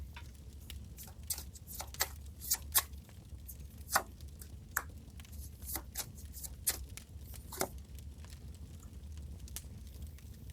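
Tarot cards shuffled and drawn at close range: soft, quiet riffling and sliding of card stock with scattered sharp flicks and taps, irregular in rhythm and alone without talk.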